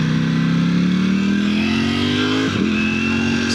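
Powerful motorcycle engine holding a loud, steady high-revving drone that climbs slowly, dips briefly as it shifts, then carries on, close and continuous with no talking.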